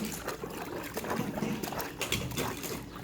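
A dog splashes around in water during play, with continuous broadband sloshing and irregular bursts of splashing throughout, fairly close.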